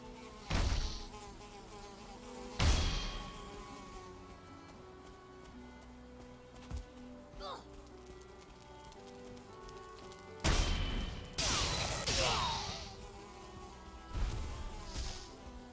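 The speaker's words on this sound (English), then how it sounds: "Pesky mosquitoes, I tell you." Mosquitoes in the survival game Valheim buzz faintly as a thin, steady whine, broken by several louder bursts of clattering game noise, with no talk.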